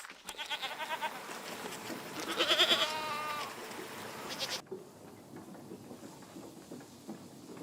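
Goats bleat in Seasons: A Letter to the Future, one wavering bleat rising over a pulsing, rumbling game ambience before the scene cuts abruptly to a quieter, hissing background.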